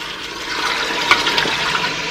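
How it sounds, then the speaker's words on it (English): Two cups of water pour into an Instant Pot holding browned meat for nihari, a brief steady splashing rush close by with no talking. "I'm going to add 2 cups of water."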